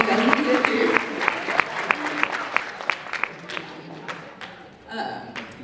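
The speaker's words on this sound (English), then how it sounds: "I want you guys to give yourselves a round of applause" A high school swim team banquet audience claps in a crisp, rapid patter of individual hand claps that thins out toward the end, with some voices mixed in.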